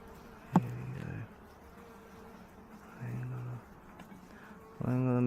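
Hungry honey bees at an opened hive buzz in short, loud close passes over a faint steady hum, with a sharp knock near the start.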